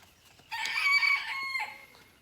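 A rooster crows once in a single drawn-out call lasting about a second, heard clearly at moderate distance with no voices around it.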